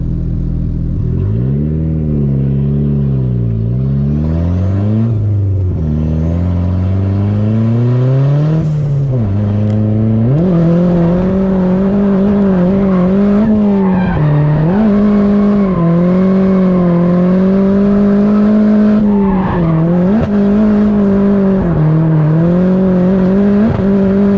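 A car pulls away in third gear, the engine note climbing, dipping and climbing again through several rising pulls. It is loud and close, a continuous strained drone with no talk.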